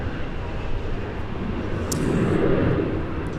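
A jet taking off from runway 17 at Minneapolis–St. Paul airport, a broad distant engine roar swelling slightly as it climbs, steady and fairly loud throughout without any talk.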